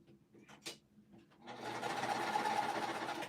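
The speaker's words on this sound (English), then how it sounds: "I'm just lining it up with the edge, and I'm just gonna keep it aligned as I sew." Sewing machine stitching a quilt strip: a few quiet clicks and handling sounds, then the motor starts and runs at a steady, even whirring hum, close and moderately quiet.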